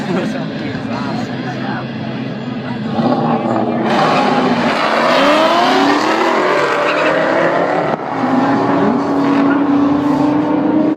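A powerful 2003 Ford Mustang Mach 1 engine revs and roars nearby, pitch sweeping up through gears, with voices talking over the loud engine noise.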